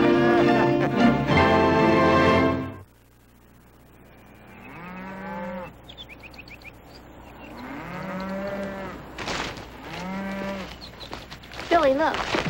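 Cows moo several times in long, drawn-out calls, some near and loud, others softer, with a stretch of voices or noise at the start and brief sounds between the calls.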